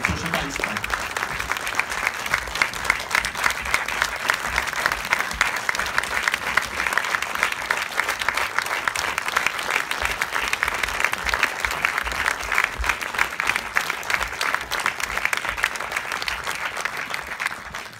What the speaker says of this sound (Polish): to będą oklaski